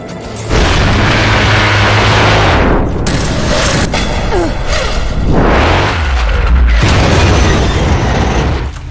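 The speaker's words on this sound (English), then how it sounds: "I'm really beginning to hate missiles." Missile explosions rumble through the Bayonetta video game in two long, heavy booming waves, loud and close, with a brief lull between them and no talking.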